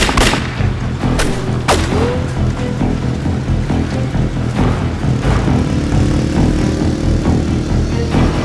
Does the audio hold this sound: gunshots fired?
yes